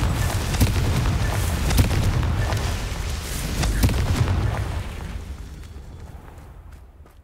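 A Confringo fire spell detonates in Hogwarts Legacy, giving loud, dense booming blasts with several sharp cracks over a rumbling roar that slowly fades away.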